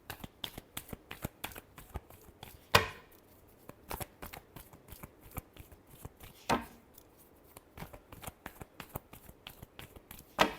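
Tarot cards shuffled in a riffling series of crisp, papery flicks and slaps with a few sharper snaps, close and steady throughout with no talking.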